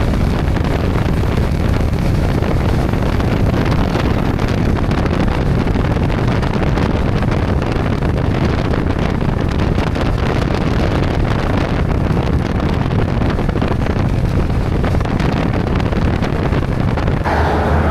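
A Honda ADV 160 scooter with a Stage 2 GSM Racing upgrade cruising on a long highway ride, a loud, steady roar of rushing wind over the engine drone, unbroken throughout.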